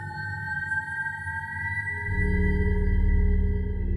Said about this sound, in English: the thing that made that sound is this, the waterphone